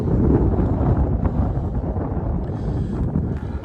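Strong wind at the Salton Sea buffets the microphone, a loud continuous roar and rumble with gusty swells across the whole stretch, no voices.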